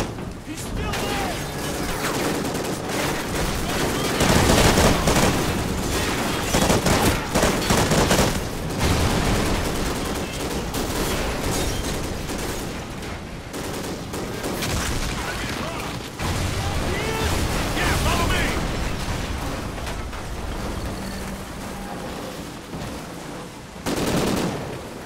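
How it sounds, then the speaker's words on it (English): Heavy gunfire rattles almost nonstop in the Call of Duty Ghosts mission Legends Never Die, with dense automatic bursts and shots layered under shouted voices. "We're laying down the fire!"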